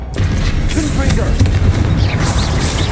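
Confringo spell explosions in Hogwarts Legacy, loud booming blasts and impacts layered over heavy combat noise, with a voice shouting over the action.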